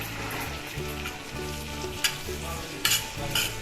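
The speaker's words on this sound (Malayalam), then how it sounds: "സവോള ഇതുപോലെ ട്രാൻസ്പെറൻ്റ് ആയിട്ട് നമുക്ക് ഇഞ്ചി വെളുത്തുള്ളി പേസ്റ്റ് ചേർത്ത് കൊടുക്കാം." Ginger garlic paste fries with translucent sliced onions in a pan for beef kondattam, producing a loud, steady sizzle close by, with rhythmic scraping of stirring and a couple of sharper clinks, no talk.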